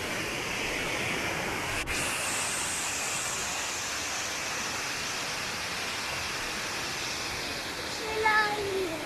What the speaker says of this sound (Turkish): Bak şelaleye bak